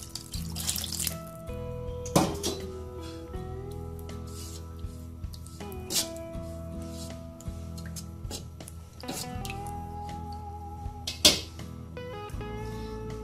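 Water running from a tap into a pot of chopped meat and salt for a Thai soup, a steady close stream with several splashing bursts and changing pitch as the pot fills, with no talk.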